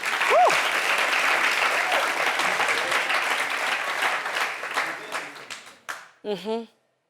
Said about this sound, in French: Applaudissez.